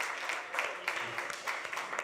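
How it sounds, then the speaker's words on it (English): Small live audience at Anodyne on Bruce in Walker's Point claps briefly for a live radio broadcast. The scattered, fairly close handclaps last a couple of seconds. "We've got a live audience. Yeah, give yourselves a round of applause."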